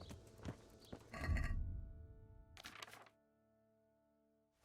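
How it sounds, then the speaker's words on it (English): Horse hooves and a whinny from a warhorse in the video game Kingdom Come: Deliverance, a few clopping steps followed by a loud neigh and a second shorter burst, then quiet. "Roach was a good horse, but Warhorse Jenda is a better horse"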